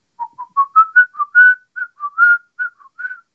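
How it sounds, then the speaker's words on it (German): A single person whistles the tune of In the Hall of the Mountain King as a clear, close sequence of short, separate notes that climb and fall, with nothing else in the background. "Ich singe sie, ich pfeife sie mal vor."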